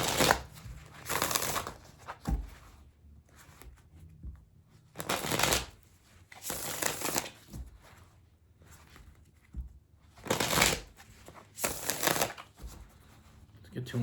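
Tarot cards being shuffled in repeated bursts of crisp riffling, each burst a second or so long and separated by quieter handling, close and clear with no voices over it.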